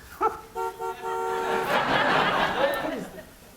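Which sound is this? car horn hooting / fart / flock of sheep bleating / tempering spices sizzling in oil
car horn hooting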